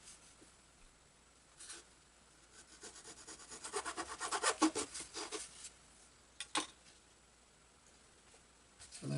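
Knife or hobby blade cutting a corner off a balsa part for a Great Planes PT-20 model airplane on floats, heard as a cluster of close scraping, rasping strokes that build to a dense burst mid-clip, then a few isolated scrapes.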